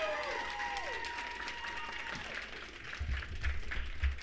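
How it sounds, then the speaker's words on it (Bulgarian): A studio audience claps steadily for a podcast guest, with a steady wash of applause and a few low thumps, while a voice speaks briefly at the start. "отново аплодисменти за господин"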